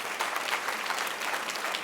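Audience applause at a high-school eloquence contest, a steady dense patter of clapping hands filling the room, moderately loud and continuous with no voices over it.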